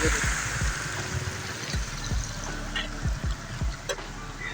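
A car pushes through a flooded street in DHA Lahore after rain with failed drains, sending out a loud, continuous rush and splash of water, with low engine thumps and rumbles close by.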